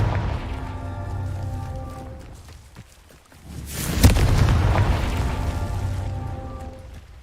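A Confringo fire spell exploding in Hogwarts Legacy: a sudden loud blast with a sharp crack, followed by a long crackling rumble, over a sustained tonal hum.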